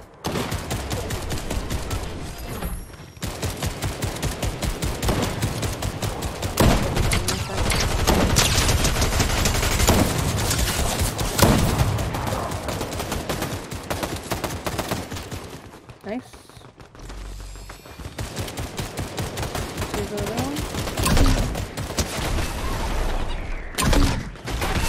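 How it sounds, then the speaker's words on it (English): Rapid, loud snowball launcher fire in Fortnite, a dense chatter of shots running nearly nonstop for about twenty-five seconds with brief gaps, while players talk underneath. "I used a snowball launcher"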